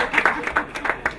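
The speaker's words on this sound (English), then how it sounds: "You can clap for me, please." Audience clapping during a comedy performance, a short burst of scattered, uneven claps from a nearby crowd with faint chatter mixed in.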